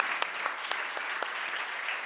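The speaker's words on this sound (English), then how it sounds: "A little applause." Applause at an architectural book award ceremony, a steady hall-wide clapping from an audience that fills the whole stretch without pause, with no voices standing out.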